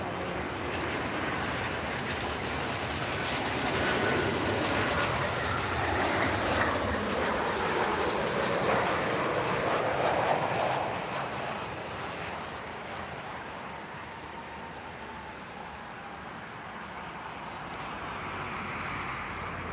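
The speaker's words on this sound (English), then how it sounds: "Air Europa, Boeing 737." Air Europa Boeing 737 at Lisbon Airport, a broad steady jet roar swelling in the middle and easing off, heard from a distance with no talk.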